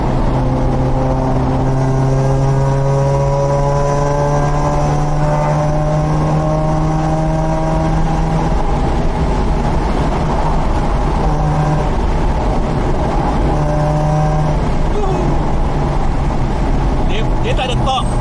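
Mazda RX8 rotary engine revving with throttle blips, a loud continuous engine drone whose pitch climbs and falls in repeated sweeps, with voices under the noise.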